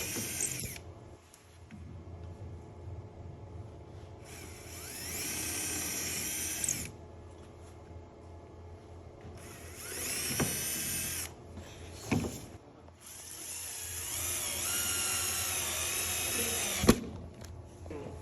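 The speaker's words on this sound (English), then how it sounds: "he's about to drill his through holes" A power drill whirs in several separate bursts, drilling through holes in a wooden shoe shelf, revving high for a few seconds at a time, with quieter handling noise and pauses between runs.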